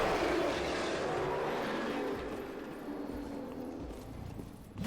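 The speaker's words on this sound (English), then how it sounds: "I hear heavy footsteps" Heavy, thudding footsteps of an enemy in Dark Souls 3 plod steadily beneath a dense, rumbling game ambience that stays loud throughout, easing slightly partway through.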